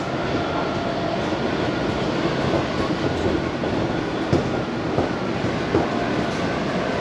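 Steady rumbling roar of a Washington DC Metro orange line car in motion in a tunnel, with the clatter of wheels over the track and a few sharp clicks, loud and constant.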